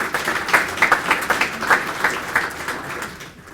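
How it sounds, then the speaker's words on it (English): An audience at a chamber of commerce event applauds, a dense burst of hand clapping that is loud at first and then tapers off as it fades out. "Let's give Kim a round of applause"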